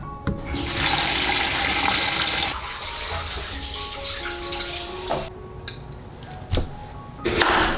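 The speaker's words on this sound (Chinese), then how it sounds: "然后用清水冲洗2遍" Running tap water pours steadily over raw pork ribs being rinsed in a kitchen, a loud continuous rush that eases after a few seconds, leaving quieter splashing and a few clinks near the end.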